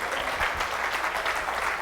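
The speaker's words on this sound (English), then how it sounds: "Clap your hands and give God some glory." A church congregation clapping hands together, a dense, steady wash of applause that fills the space without pause, with no voices rising above it.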